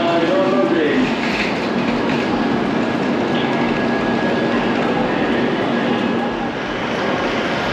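A Shinkansen bullet train rolls through a station with a steady, loud rushing rumble and a faint high whine, fading slightly near the end.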